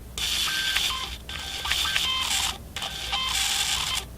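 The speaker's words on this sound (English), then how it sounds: "if I hold the camera shut while trying to extend the camera, it makes noises akin to the dial-up era" Samsung Galaxy A80 rotating camera motor held shut while trying to extend, giving three bursts of warbling, modem-like electronic chirping and whirring, close and clear with short gaps between, no voices.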